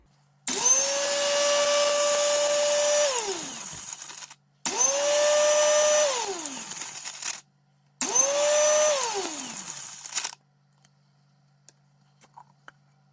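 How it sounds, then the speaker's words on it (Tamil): An electric grinder whirs loudly through dried red chillies for vadai in three separate bursts of a few seconds each, the pitch dropping as each run winds down, with short silent gaps between them. "அறுவல் அரைக்கும் போது செத்த மிளகாய் வடிவாக அரைப்படாது என்பதற்காக முதல்ல செத்த மிளகாய் அரைப்போம்"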